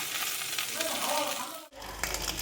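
Whole cumin, dried chillies, bay leaf and ginger frying in hot oil for khichuri, a steady close sizzle and crackle with a brief clatter, a short dip, then continued frying.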